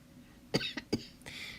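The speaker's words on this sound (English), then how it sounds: "Do excuse my cough." A woman gives a few short, dry coughs close to the microphone, two sharp bursts followed by a softer throat-clearing cough, in a quiet room with no talking.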